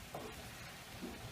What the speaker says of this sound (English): Quick video of sizzling, yummy, delicious, beautiful looking food.